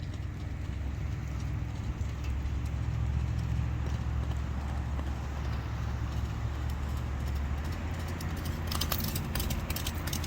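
A horse in the LOTRO video game gallops with steady, rapid hoofbeats that run continuously and fairly evenly over a soft background, with rain-like hiss in the mix.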